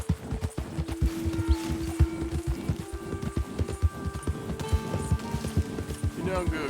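Horse hooves clip-clop at a steady walking rhythm in the open-world game Red Dead Redemption 2, close and continuous, with game voices and ambience beneath the steps.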